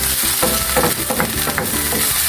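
Garlic and tomatoes frying in a pan for pinakbet, a broadband sizzle running throughout while a utensil stirs and scrapes in several distinct strokes, close and fairly loud.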